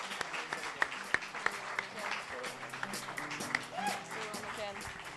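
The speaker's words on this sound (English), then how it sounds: "Can I have a round of applause" Applause from an audience at a product launch event in Umeå, a steady patter of many hands with a few sharp, louder claps near the front and some murmuring voices mixed in.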